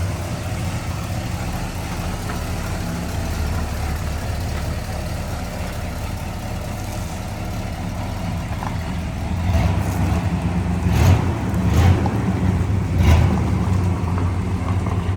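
A 1968 Pontiac GTO with a 400 V8 and three-speed transmission on a test drive, a steady loud low engine rumble from inside the car with a few brief thumps and clunks near the end.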